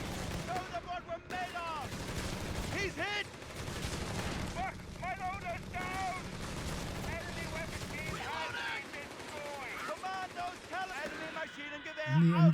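Rapid bursts of MG34 machine gun fire in a video game crackle through dense battle noise while someone talks over them almost constantly.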